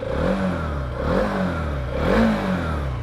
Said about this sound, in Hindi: अब देखो मैं यहाँ पे थ्रॉटल देने वाला हूँ,